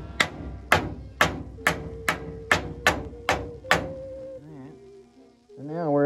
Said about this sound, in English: Now I can tap the top.